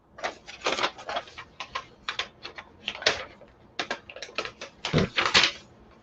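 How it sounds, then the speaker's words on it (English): Someone types quickly on a computer keyboard in uneven bursts of close, sharp key clacks and pauses for about six seconds, with no talking. "I'm typing this out real quick."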